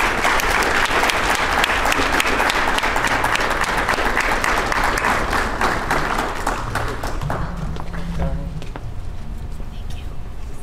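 An audience gives loud, sustained applause welcoming a speaker before her talk on a healthy vegan diet. The dense clapping fades toward the end, and faint voices are heard under it.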